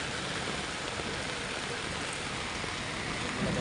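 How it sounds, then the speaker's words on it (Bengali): Steady rain falls on a closed-off street as a prime minister's motorcade passes, a dense, even hiss of drops filling the whole moment with no break, moderately loud and close. "চারদিকে বৃষ্টি হচ্ছে"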